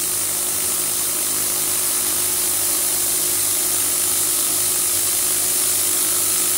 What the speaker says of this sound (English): Facing operation.